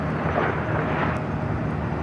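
A one-year-old Delta Airlines Airbus A321neo arriving at LAX from Las Vegas, a steady broad jet roar with a low rumble, fairly loud and continuous over the short stretch.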